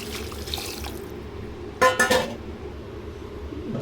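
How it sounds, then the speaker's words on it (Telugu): A glass of water is tipped into a pan of mutton curry, a brief splashing pour lasting about half a second in the middle, set against a steady low cooking hiss. "Glass water పోసుకున్నాం."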